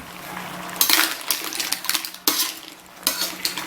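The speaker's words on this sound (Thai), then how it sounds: "ตอนนี้เราก็จะผัดจนโหระพาสุก" Surf clams stir-fried with holy basil in a hot pan, a metal spatula scraping and clattering the shells in repeated bursts, loud and close, with no voices.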